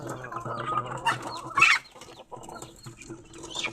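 Gamefowl chickens cluck close by as they eat feed, with a steady run of soft clucks and one louder squawk partway through and no talk.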